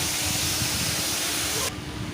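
Tomato paste hits hot oil in a kadai while cooking a vegetarian paneer dish, giving a loud, steady, close sizzle and hiss that eases slightly near the end, with no voices.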